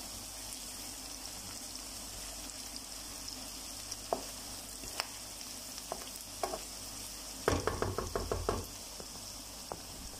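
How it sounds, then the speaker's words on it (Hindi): Garlic sizzles quietly in a pan with lightly browned onions as a steady soft crackle, broken by occasional knocks and a brief burst of stirring near the end. "पंद्रह से 20 सेकंड तक हमने लहसुन को भूनना है इसके अंदर।"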